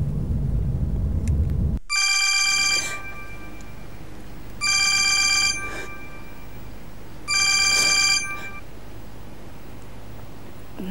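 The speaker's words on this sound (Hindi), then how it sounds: "हमना को फोन कर लो।" A phone rings electronically three times in short bursts with gaps between, over a low steady rumble after a brief louder noise at the start.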